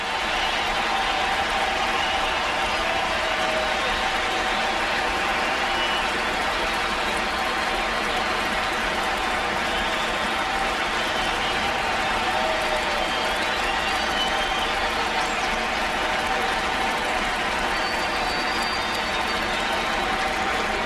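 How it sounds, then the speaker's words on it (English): A baseball crowd at a St. Louis Cardinals–Chicago Cubs game gives Sammy Sosa a standing ovation, with a sustained, dense roar of cheering and applause that stays loud and even from start to finish. "Another standing ovation."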